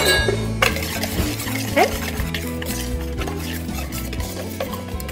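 Dried spices, Mexican oregano among them, being stirred together in a bowl for traditional carnitas, with rhythmic scraping and light clinks of a spoon against the bowl, close up, and a brief spoken word at the start.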